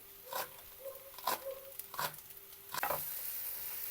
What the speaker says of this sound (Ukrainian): Ось бачите, я швиденько їх так піджарюю.